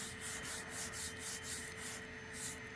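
A sponge rubs cleaner into a vinyl seat from a 1966 Chevy C10 truck with gentle, rhythmic scrubbing strokes, soft and close, repeating steadily with no voices.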